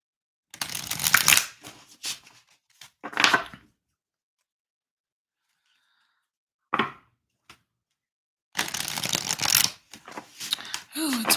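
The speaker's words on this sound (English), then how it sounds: "I feel like I have to shuffle gently for Scorpio." Tarot cards being shuffled gently by hand in a few separate bursts, each a crisp papery riffle close up, with quiet pauses between them.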